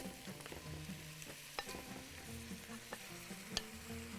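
Meat dropped onto onions frying in a pan for curry, a soft steady sizzle with scattered stirring scrapes and clinks, faint and close, no voices.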